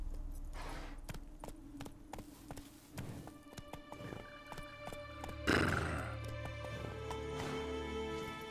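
Roach the horse from The Witcher 3: Wild Hunt whinnies amid game clip-clop hooves and a sustained musical score, with a louder burst about midway, no voices.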